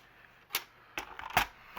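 Paper being trimmed for a handmade ocean-themed cinch journal, heard as a few quiet, brief crisp cutting strokes spaced irregularly, close by, with no voices.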